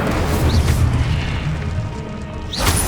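A booming Incendio fire spell blast from Hogwarts Legacy on PlayStation 5, with dense broadband crackle throughout and a louder burst near the end, with no talking.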